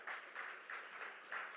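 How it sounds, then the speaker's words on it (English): Brief, fairly quiet applause from a conference audience after a panel at a morning session, the clapping rising and falling in soft swells. "A big round of applause for our final panel of this first track of the morning."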